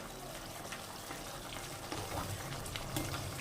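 Spice paste with Kashmiri chilli powder being stir-fried in a pan for a river boal fish curry, a dense steady sizzle with faint scraping, close and unaccompanied by talk.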